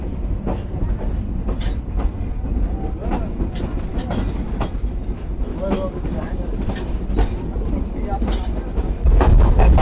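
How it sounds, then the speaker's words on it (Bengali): The Kapotaksha Express intercity train, running Rajshahi to Khulna, pulls out of Paksey railway station with a loud, steady rumble and scattered clanks and clicks of the wagons, building slightly louder toward the end. "আন্তনগর কপোতাক্ষ এক্সপ্রেস ছেড়ে গেল পাকশি রেলওয়ে স্টেশন থেকে"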